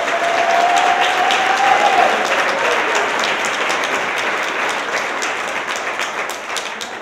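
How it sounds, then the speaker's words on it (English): A large crowd at a community service awards ceremony applauds steadily, dense clapping filling the space for several seconds and tapering slightly toward the end. "Let's give him a big round of applause."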